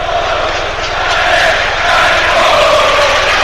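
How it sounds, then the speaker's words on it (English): Broad, steady crowd roar with applause at a Leicester City versus Nottingham Forest football match in a stadium, loud and continuous throughout, with a commentator's voice faintly underneath. "there's a healthy round of applause"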